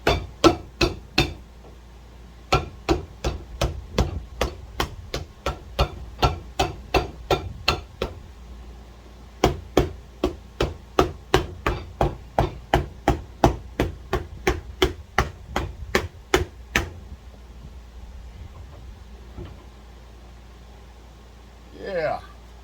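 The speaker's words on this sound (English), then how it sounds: "Hammer." Sharp, repeated hammer strikes on a Rockport dress shoe set on a shoe rack, in quick bursts with brief pauses between runs, close and loud, ending in quiet.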